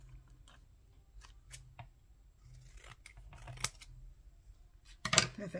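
Scissors trim a layered Christmas gift tag, with quiet paper handling and small snips that end in a sharper, louder cut, all close and faint.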